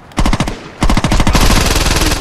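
Rapid automatic gunfire from a weapon in Saints Row 2, loud and close: a first burst of shots, a short pause, then a longer sustained volley with dense, rattling reports.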